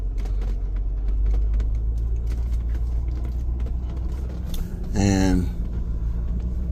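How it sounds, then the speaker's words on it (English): A big truck dumping feed meal at a country farm store gives a steady low rumble and mechanical hum, with a person speaking over it near the end. "You see they got the big truck dumping meals."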